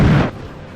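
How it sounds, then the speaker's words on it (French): A big explosion in the online game Grand Fantasia bursts loud and close with a deep boom that fades quickly into a low rumbling tail. "une grosse explosion"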